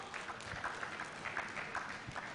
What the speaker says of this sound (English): Thank them with a round of applause.